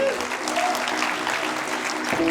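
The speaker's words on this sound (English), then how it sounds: "Please give them a big round of applause" Audience applause at a parents' night event, a steady wash of clapping throughout that sounds fairly close, with faint tones and voices mixed underneath.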